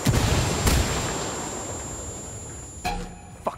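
A frag grenade goes off in the tactical shooter Ghost Recon Wildlands Ghost War PvP mode, a loud opening boom with a long rumbling decay, followed later by a couple of sharper distant blasts or shots.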